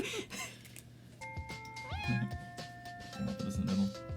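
Cartoon cats meowing in the cat dating sim game Purrfect Date, several distinct meows and a drawn-out tonal mew over soft game background sounds, clear and close.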